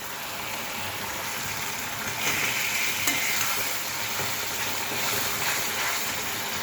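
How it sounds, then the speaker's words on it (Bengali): Fish curry with potatoes being stir-fried in a pan gives a steady, close sizzle and frying hiss throughout, with soft scraping from stirring and no talk. "আমি এখন আলু দিয়ে কষাবো।"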